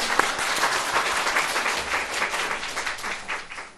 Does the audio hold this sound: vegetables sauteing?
no